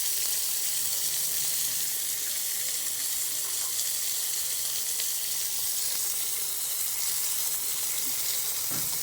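Chicken gunta punugulu fry in hot oil in a pan, giving a dense, continuous sizzle that stays loud and even throughout with no talking over it.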